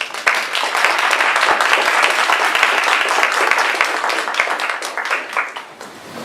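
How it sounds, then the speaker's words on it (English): Audience applause at an evening forum in Eugene welcoming speaker Pam Birrell, steady dense clapping from a sizeable crowd for about six seconds before tapering off slightly at the end. "So a big round of applause for Pam Birrell."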